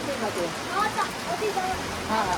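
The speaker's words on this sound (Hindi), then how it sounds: "वैसे बारिश हो रहा था कोई बात नहीं ना, इतना गजब का मौसम हो गया" Steady rain falls outdoors in a hill-country setting, a dense, even hiss of drops with faint voices mixed in underneath.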